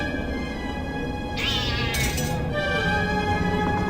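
A cat in the video game The Black Mirror gives one drawn-out, plaintive meow lasting about a second, clear and fairly close over a steady ambient game drone.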